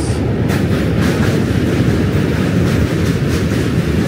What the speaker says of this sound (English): It's a huge train.